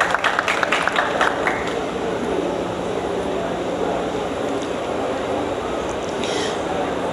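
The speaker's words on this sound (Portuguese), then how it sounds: "eu queria que saudássemos com uma salva de palmas aos nossos" An audience at a legislative assembly panel on obstetric violence applauds the speakers, a sustained even wash of clapping lasting several seconds with a faint steady hum beneath it.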